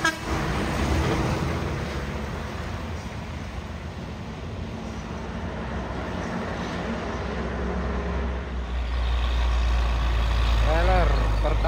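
A Pertamina trailer truck rolls past near a hilly roadside spot, its heavy engine rumble swelling steadily over several seconds amid traffic noise, with horn toots and a louder low roar toward the end.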